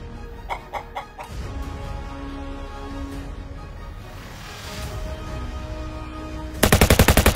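A chicken clucks amid bursts of gunfire, with sharp shots early on and a loud, rapid machine-gun volley at the end over a busy background.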